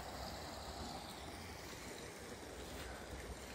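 Brook water rushes steadily past a culvert on an outdoor walk, making a continuous, even hiss of flowing water with no voices and no breaks.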